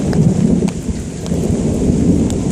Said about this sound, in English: It's big thunder going down in the water.